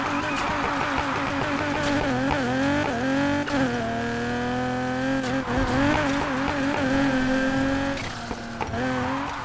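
Nissan 350Z drifting in Need for Speed Heat, engine droning steadily with pitch sweeping up and down and tires squealing through long slides, loud and continuous with a voice talking over it.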